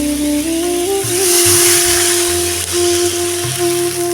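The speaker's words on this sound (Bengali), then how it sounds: "জল দিয়ে দেবো।" Water poured into a hot pan of turmeric, salt and potatoes for a light fish curry, a loud continuous steaming hiss that swells and then settles, with a low hum underneath.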